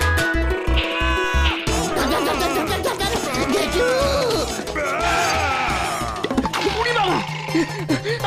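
Near and loud, a goat bleats in several drawn-out, quavering calls over a steady rhythmic beat that fades early on, with some voice mixed in.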